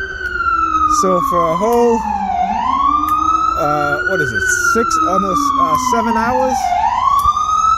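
Ambulance siren wails loudly and continuously, sweeping up and down in long cycles close by, with someone talking over it throughout.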